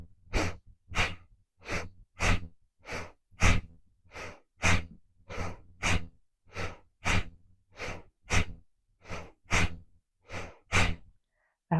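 Rounds of deep yoga breaths, each a loud, forceful inhale or exhale in a steady rhythm, about twenty pulses close to the mic with short silent gaps between them.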